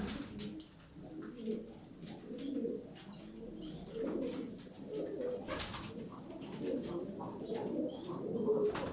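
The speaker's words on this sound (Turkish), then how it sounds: "Çok güzel tepeli kuşlar, kanat sesleri de falan çok güzel." Crested pigeons coo softly and repeatedly close by, with a few higher chirps and brief fluttering wing sounds in a quiet setting.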